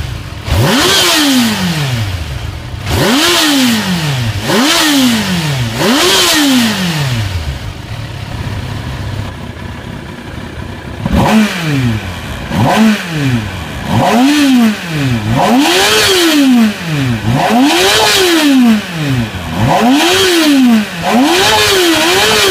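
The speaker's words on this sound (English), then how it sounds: "let's hear the exhaust from this little bad boy one more time" A Kawasaki ZX-10R motorcycle engine revs repeatedly, rising and falling in sharp sweeps with a pause midway, loud and close with a raspy exhaust note.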